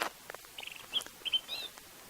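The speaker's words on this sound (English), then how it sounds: "Lots of birds" Birds call in the bush at sunrise in Sabi Sand, South Africa, giving scattered short, faint chirps and whistles over quiet background.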